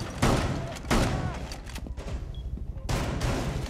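Pistol gunfire in Rainbow Six Siege: a few loud, sharp shots with booming tails, spaced unevenly over a short stretch, close and dominant in the mix.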